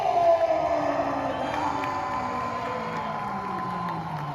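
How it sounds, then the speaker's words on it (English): Hometown wrestling crowd at a TCPW show cheering and whooping for Barbadian wrestler Mustapha Jordan after his ring introduction, a loud sustained roar of many voices that swells at the start and holds steady throughout. "Crowd reaction here from Mustapha"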